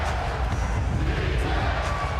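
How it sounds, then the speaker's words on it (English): A packed NBA arena crowd at a Spurs versus Hawks game roars in a dense, continuous wall of cheering, loud and sustained for the whole moment without letting up. "The crowd on its feet."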